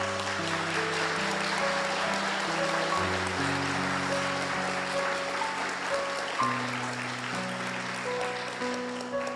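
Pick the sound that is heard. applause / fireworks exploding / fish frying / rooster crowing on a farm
applause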